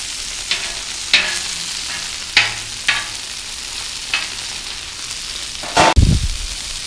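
Chicken wings sizzle on a hot Blackstone flat-top griddle, a constant frying hiss broken by several sharp metal spatula scrapes and taps as pieces are flipped, ending in a louder clatter.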